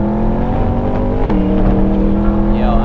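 A mid-engine Chevrolet Corvette C8 at full throttle on a racetrack, loud in-cabin engine drone that holds steady, then shifts with a brief dip and pulls on strongly, with no speech.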